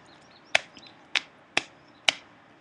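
A rice cracker squishy toy cracks sharply four times when squeezed, each snap close, crisp and separated by short pauses, with no voices.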